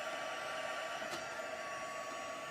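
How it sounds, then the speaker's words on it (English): A heat tool blows hot air over a craft piece for embossing, producing a quiet, even, continuous whoosh with no other sounds. "the magic of embossing is when you heat it up with your heat tool"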